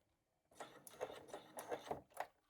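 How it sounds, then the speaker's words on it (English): A sewing machine top-stitching around a small fabric coin purse, a short stretch of quiet mechanical whirring with rhythmic needle clatter after a moment of silence. "Just sewing over the top of those earlier stitches, and again pressing down at the end"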